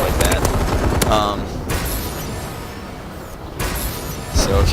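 Heavy artillery-style cannon fire from the Paladin scorestreak in Call of Duty: Advanced Warfare, with loud repeated booming shots and crashing impacts across a few seconds, plus some game noise in the background.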